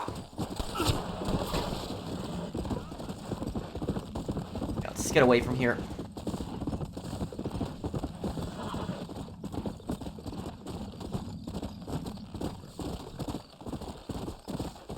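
A horse's hooves clip-clop in a steady rhythm throughout in Red Dead Redemption, with a short whinny partway through and someone briefly speaking over the trotting.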